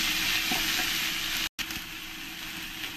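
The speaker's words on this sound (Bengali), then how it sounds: "আদা রসুন পেস্ট করে রেখেছি, সেটাই বড় চামচের 1 চামচ দিয়ে দেবো, দিয়ে ভালো করে আমি কষিয়ে নেব" Ginger garlic paste fries in a pan, giving a steady broadband sizzle with a few scraping stirs and a brief dropout at the midpoint; no voices.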